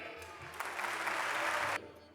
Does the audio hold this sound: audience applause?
yes